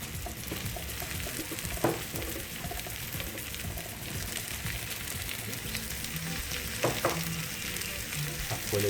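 Meat and spices for feijoada frying in a pan, a dense continuous sizzle with occasional louder crackles and stirring scrapes, close and steady throughout.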